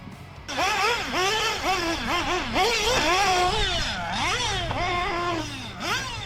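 An off-road RC race car whines as it accelerates out of corners, its high-pitched electric motor rising and falling in pitch through repeated bursts of throttle. The sound stays close and steady for several seconds.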